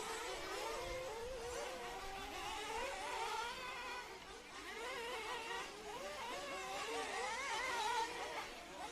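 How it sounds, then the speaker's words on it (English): Engines of about ten RC nitro buggies race at a track, their high whining and revving overlapping into a continuous buzz that rises and falls as the cars pass, heard from a distance. "Only 10 cars in this scene, that's why the noise volume's gone down dramatically."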